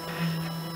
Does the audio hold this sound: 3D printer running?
yes